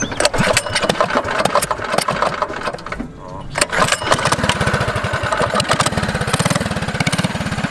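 A go-kart engine with a Mikuni carburetor keeps running loud and close once the choke is turned off, dipping briefly before settling into a steady revving pulse, with talk mixed in.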